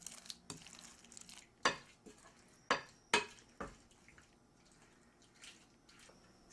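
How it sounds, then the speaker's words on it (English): Lobster wedge salad is folded into dressing in a bowl, mostly quiet with soft wet stirring and a few sharp clinks of a utensil against the bowl, spaced irregularly. "I'm going to take the dressing, fold everything into it"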